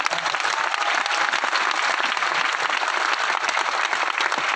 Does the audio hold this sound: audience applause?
yes